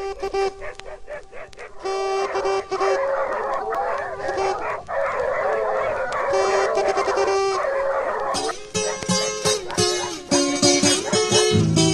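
Several dogs bark and yip excitedly during a pig hunt, over a busy, noisy outdoor scene with people talking, the barking loud and near.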